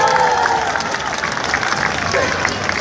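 A crowd at a street performance reacts with loud, sustained applause and cheering, a dense wash of clapping and voices filling the scene, with someone talking over it.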